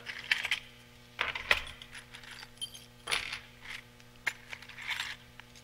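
Metal keys are handled and jangled inside a crowded box, giving sharp, bright clinks and clattering bursts at irregular intervals, close up, over a low steady background hum.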